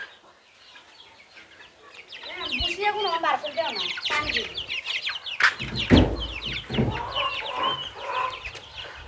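Laying hens in a village shed shared with quail, a rising chorus of clucks and squawks that grows busier and louder over several seconds, with rain-season background noise and a voice speaking among the birds.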